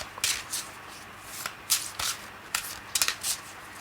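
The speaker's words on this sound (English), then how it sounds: "So the overhand shuffle is not bad." Oracle cards being overhand shuffled, giving a series of brisk papery riffles and slaps in uneven bursts, close up with no voice.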